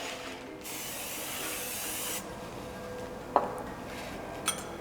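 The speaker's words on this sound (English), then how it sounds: "So I'm gonna spray it with some non-stick spray." Non-stick cooking spray hisses steadily into a loaf pan greased for a honey cake, a couple of seconds of continuous spray, followed by a faint clink of metal.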